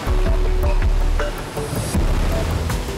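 Powerful Atlantic waves crash on rocks in a continuous loud roar with deep rumbling surges and hissing spray, heavy wind buffeting the microphone close by.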